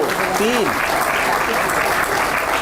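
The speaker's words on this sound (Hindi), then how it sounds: "एक बार इसके लिए भी ताली बजाओ।" A crowd of children applauds together, a dense continuous patter of many hands filling the space, with voices calling out over it.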